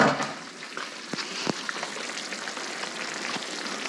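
Leftover turkey tipped into a pan of Japanese curry, giving a soft sizzling bubble with a few sharp clicks and taps of food landing. It stays fairly quiet, with no talking.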